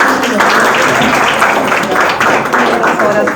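A church class audience applauds as a female teacher is welcomed, steady broadband clapping filling the short stretch at close range, with a murmur of voices mixed in throughout.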